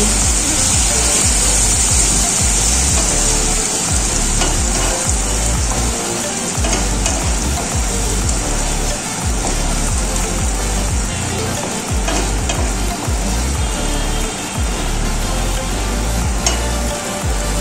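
Spice paste with sugar being stirred and fried in oil with bay leaf and dried chili for a Bengali hilsa fish dish, a loud continuous sizzle with scraping stir strokes throughout.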